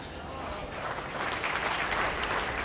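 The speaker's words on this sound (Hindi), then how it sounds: "ताली किसके लिए बजा रहे हो मेरे भाइयों?" A large audience claps steadily at a Hindi talk on the cow debate, the applause dense and sustained and growing slightly louder, with a voice faintly audible underneath.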